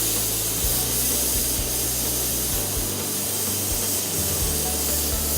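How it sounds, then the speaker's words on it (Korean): Spray gun spraying car paint during automotive blending work, a steady loud hiss of compressed air and atomized paint running continuously at close range, with a low humming tone underneath. "지금부터 스프레이건 사용에 대해서 실습을 진행해 보도록 하겠습니다."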